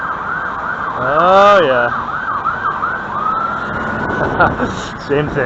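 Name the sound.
emergency vehicle siren in Quebec street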